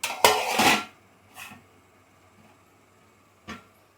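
A lid clanks onto a cooking pot of mutton dum biryani, a sharp double metallic clatter followed by a couple of fainter knocks in a quiet kitchen.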